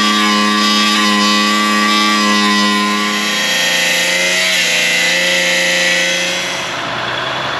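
A power tool cuts through a steel plate on an off-road vehicle, a loud, close, continuous high whine with a shifting pitch throughout.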